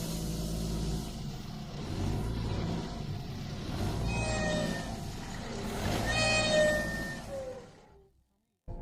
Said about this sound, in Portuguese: ao acelerar, o carro emite som parecido com coruja